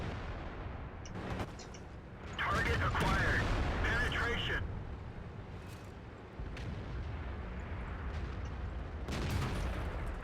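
Tank cannon shots strike a T110E5 heavy tank in World of Tanks, a few heavy, booming impacts among battle noise, with a voice talking over parts of it.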